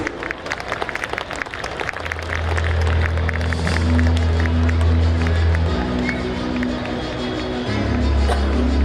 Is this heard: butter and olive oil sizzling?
no